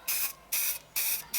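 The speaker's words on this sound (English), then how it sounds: "There's something wrong with the aerosol." An aerosol can of surface primer sprays in three sharp, loud bursts separated by short pauses, each a close, bright hiss that starts and stops abruptly, with no voices.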